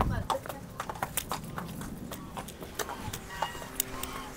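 Horse hooves clip-clop in an irregular walking rhythm close by, with people talking over the steps.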